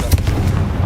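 A Confringo fire spell explodes in the video game Hogwarts Legacy, a short booming blast with a heavy low rumble that fills the whole brief moment.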